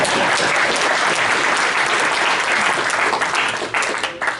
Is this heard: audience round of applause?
yes